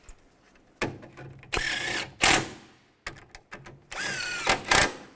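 A power tool tightens screws on a 2002-2009 Chevy Trailblazer radiator, with two pairs of loud, short whirring bursts separated by brief pauses and faint handling noises.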